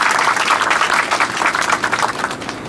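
An audience at a Fukuoka city mayoral award ceremony for flower and greenery achievements breaks into applause, a dense, even wash of many hands clapping that holds steady throughout, fairly close and loud.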